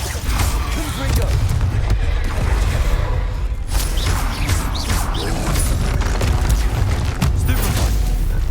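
Confringo, the explosive fire spell in Hogwarts Legacy, lands in the middle of a loud, busy duel, with repeated booming impacts and crackling bursts running continuously for several seconds and voices mixed in.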